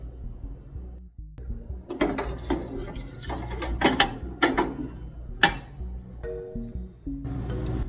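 Metal and plastic parts go into the freezing cylinder of a C706 machine, giving close, irregular clunks, clicks and sliding scrapes with short pauses between them.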